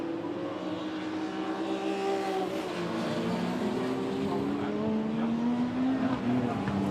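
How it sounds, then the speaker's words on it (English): Saloon racing cars, BMW 1M Coupe and M3 among them, drive downhill into Graham Hill Bend at Brands Hatch circuit, a steady layered engine drone with rising and falling pitches from several cars, continuous and fairly loud with commentary over it. "Down the hill, the BMWs go into Graham Hill Bend."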